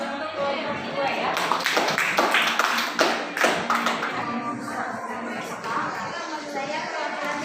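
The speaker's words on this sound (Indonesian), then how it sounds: "beri aplaus untuk kelompok 2 ya" Classroom applause for a student group, a burst of many hands clapping together with children's chatter and a voice talking over it, fairly close and steady before tapering off.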